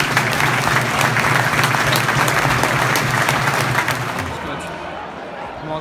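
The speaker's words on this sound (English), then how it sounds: "We ask supporters to join us for a minute's applause, which will begin and end on the referee's whistle." Football supporters at a Peterborough United home match against Wycombe Wanderers hold a minute's applause in the stadium, a loud, dense wall of clapping that fades slightly near the end, with crowd murmur beneath.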